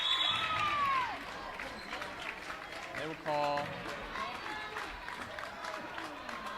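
Home crowd in a Manhattan High School gym at a basketball game against Washburn Rural, reacting with a steady roar of voices and cheers beneath an announcer's play-by-play, swelling briefly in the middle.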